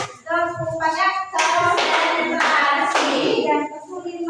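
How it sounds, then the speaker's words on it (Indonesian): Rhythmic hand clapping in a focus-clap routine, likely a classroom learning game, with several bursts of claps in a patterned sequence, close and fairly loud, mixed with voices and harmonic tones. "tepuk fokus, oke? Tepuk fokus. Tepuk satunya yes, tepuk duanya oke, tepuk tiga semangat"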